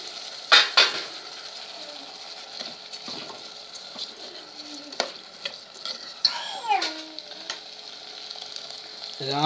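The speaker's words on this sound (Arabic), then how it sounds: "هسه خبطنا التمة والبوتيتا والبصل" A spoon scrapes and stirs rice with potato and onion in a frying pot, a steady soft sizzle beneath intermittent clinks and knocks against the pot's sides, close and moderately loud, with no talking.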